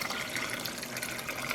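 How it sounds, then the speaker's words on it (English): Warm water poured into a yarn dyepot makes a steady splashing gush, continuous and moderately quiet for the whole stretch, with no voices. "I'm going to try adding our last bit of water in here."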